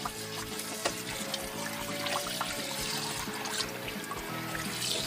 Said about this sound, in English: throw it in the sink and we're gonna fill it up with water